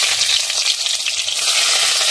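Onions frying in hot mustard oil with bay leaves, a loud, steady, close crackling sizzle with faint stirring beneath and no voices.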